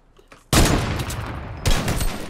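Rapid bursts of automatic gunfire in the video game Fortnite, loud and continuous in two dense volleys separated by a brief dip.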